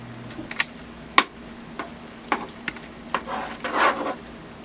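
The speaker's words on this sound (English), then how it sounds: "And I'm going to add some butter to the oil. And let that melt together." Butter melting into vegetable oil in a skillet gives a quiet, steady sizzle with scattered clicks and stirring scrapes, rising briefly louder near the end, with no voices.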